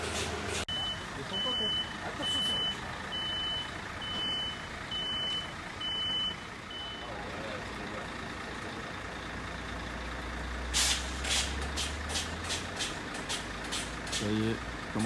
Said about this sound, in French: Le camion va la livrer directement dedans, donc ça va faire une petite marche arrière.